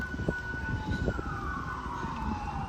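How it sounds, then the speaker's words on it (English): An emergency vehicle siren wails on a New York City street near Central Park, a steady tone slowly sliding lower over a rumbling bed of traffic, clear and moderately distant. "The sirens in the background."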